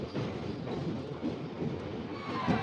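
An Indian passenger train running and overtaking another train, giving a steady low rumble and rattle of wheels and carriages from inside the train, without talk.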